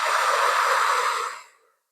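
One forceful exhale through the mouth during a chest-mobility breathing exercise: a close, breathy rush that holds steady for over a second, then tapers off into silence.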